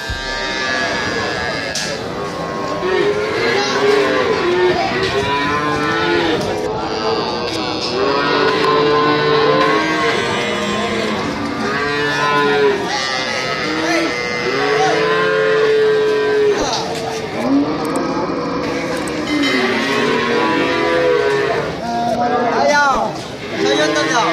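Cattle moo repeatedly at a busy cattle market in Wonoasih, loud and overlapping, with lowing calls rising throughout. People chatter and talk among the animals.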